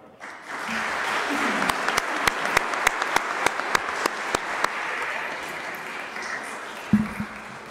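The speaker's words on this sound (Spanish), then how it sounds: "Y ahora les damos un aplauso." A church congregation applauds during a Sunday Mass: a steady, moderately loud wash of clapping with a few sharp, distinct claps standing out near the middle, then fading. A voice is briefly heard near the end.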